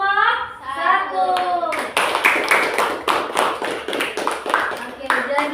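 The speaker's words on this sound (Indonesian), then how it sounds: "berikan aplaus dari kelompok 1" Classroom applause for group 1, with voices talking at first and then dense, lively hand clapping from many students close by.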